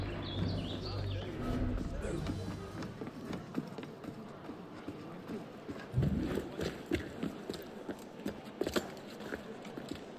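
A horse gallops in the video game Assassin's Creed Unity, a rapid run of hoofbeats clattering close amid birdsong and other in-game sounds.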